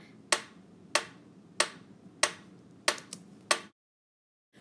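Sharp, distinct claps in a second-grade music lesson ring out in a steady rhythmic pattern, about seven crisp hits with a quick pair near the end, then silence.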